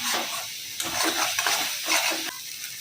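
Spices frying in oil over a high gas flame, a bright crackling sizzle broken by uneven scraping stir strokes, close and moderately loud with no voices.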